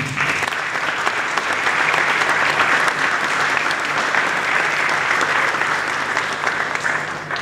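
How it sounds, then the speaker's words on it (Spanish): Audience applause for the teachers and students from local schools at a talk about the Malvinas, a steady, dense clapping that holds at full strength for the whole stretch and eases slightly at the very end. "así que para ellos un fuerte aplauso también."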